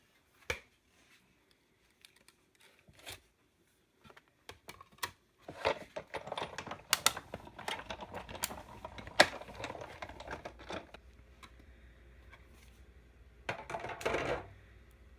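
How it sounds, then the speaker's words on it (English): A die-cutting machine pulls a paper tag through: scattered light clicks at first, then a dense, irregular run of rattling mechanical clicks and clacks, ending in a short burst. "you want to run that through with your cutting machine"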